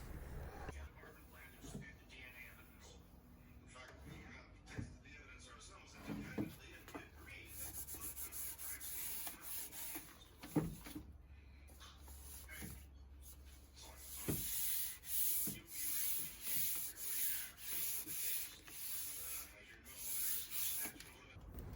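Antique wooden desk being rubbed with printer paper to smooth the finish, close dry scratchy strokes that grow louder and turn into a regular back-and-forth rhythm in the second half, with a voice heard at times.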